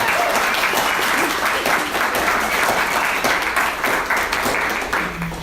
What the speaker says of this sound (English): let's give them a collective round of applause